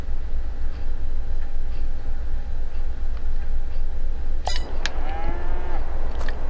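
Cows mooing in the Farming Simulator 22 video game, on a dairy farm with livestock pens, with a couple of loud lowing calls coming late over a steady background hum of farm ambience.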